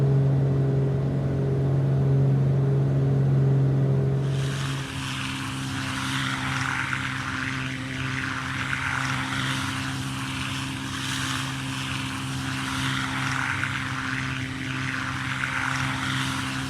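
Twin-engine Beech Duke propeller aircraft in a flight simulator game, steady droning engine roar with a low hum; after about four seconds the sound shifts to a broader, brighter airy roar that continues loudly and evenly to the end, no voices.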